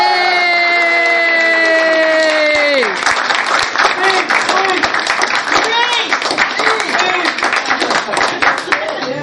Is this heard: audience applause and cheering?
yes